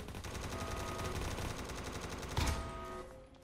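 Rapid automatic gunfire in the Roblox game SCP Security Department, a dense continuous burst of shots with one louder blast near the end before it cuts off.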